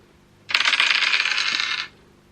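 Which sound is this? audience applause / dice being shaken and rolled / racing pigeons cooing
dice being shaken and rolled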